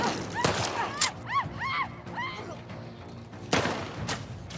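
Gunshots from a gun in The Last of Us Part 2 ring out in a few loud, separate bursts, with a pause between the early and late shots, over busy game ambience.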